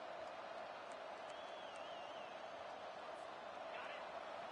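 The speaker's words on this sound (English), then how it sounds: "Decibels rising as the crowd gets behind this defense on third down" A football stadium crowd roars steadily on a third down, a dense continuous wash of cheering and noise heard from a distance with a broadcaster talking over it.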